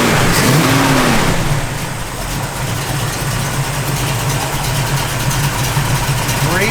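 A 1969 Chevrolet Nova V8 rumbles loudly up close, holding a steady, deep idle with a quick rev at the start and another building at the end.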